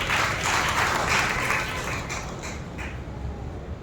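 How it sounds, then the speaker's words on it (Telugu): A church congregation claps together for a few seconds, a dense burst of applause that is loudest at first and then tapers off. "చప్పట్లు కొట్టి మనం దేవుని బయలుదేరాం"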